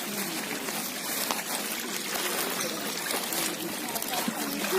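Water trickles and splashes steadily at a temple lake where feet are being washed, a continuous close wash of dribbling water with faint voices in the background.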